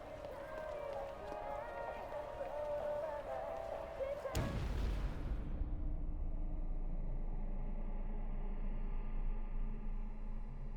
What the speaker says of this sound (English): Suddenly a massive fiery blast knocked him from his feet.